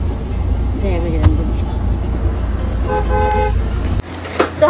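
A car is driven along a road with a steady engine and road rumble, and its horn gives two short toots a moment apart. Faint voices can be heard inside the moving vehicle.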